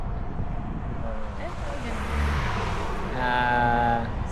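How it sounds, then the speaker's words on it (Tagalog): Many cars pass by on a busy road, a continuous loud traffic rumble with wind noise and a rising pass-by swell near the end. "Ang daming dumadaang sasakyan."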